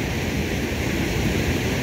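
Water from an overflowing dam rushes through the Salgado River bed after heavy rain in Cariri, Ceará, a loud, steady, broadband roar close by with no break and no voices.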